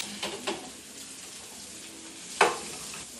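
Chicken fries in a pan with curry leaves, giving a soft, steady sizzle and hiss at moderate distance, broken by a few light clinks and scrapes of stirring.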